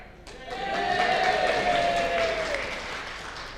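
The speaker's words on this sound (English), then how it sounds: "The claps weren't quite so loud then, but they started to anyway" An audience at a self-advocates conference claps in a modest burst that swells and then slowly fades, with a faint voice heard alongside.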